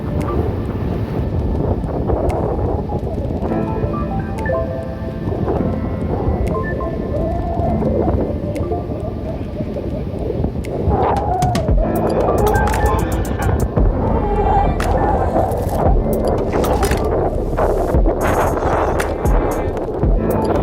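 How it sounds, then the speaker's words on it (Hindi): Strong wind blowing through a mountain valley in Himachal, a loud, continuous roaring buffet that batters the microphone, with gusty rumble and fluttering throughout. "और ये आप हवा की आवाज़ सुन पा रहे हैं कितनी तेज़ है"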